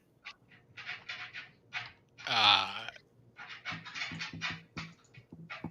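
A dog whimpers in her sleep, with soft panting throughout; one short, high, whining whimper stands out midway, close by, between stretches of people talking indoors.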